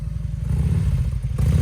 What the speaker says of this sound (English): starting up the Harley Davidson